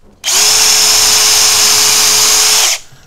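A power drill bores through a top piece of pallet wood in one steady, loud, close whine lasting about two and a half seconds, starting and stopping abruptly with no talking.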